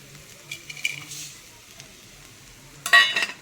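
Whole spices and poppy seeds go into a pan with fresh coconut to roast, giving a faint sizzle with light stirring scrapes, then a sharper burst of crackle near the end.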